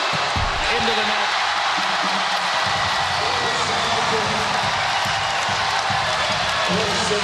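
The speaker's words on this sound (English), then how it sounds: "the crowd acts as if they won the point" A sold-out crowd at an NCAA men's volleyball match between Hawaii and Long Beach State roars in a loud, sustained wash of cheering that fills the arena, with a commentator's voice over it.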